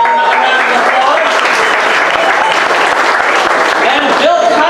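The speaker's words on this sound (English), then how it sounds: "Give her another round of applause." Audience applauding Lockport mayor Michelle Roman at a mayoral race speech event, loud steady clapping throughout with crowd voices mixed in.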